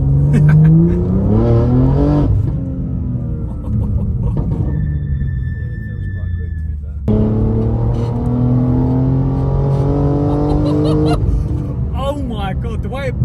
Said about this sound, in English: That was like a third gear pull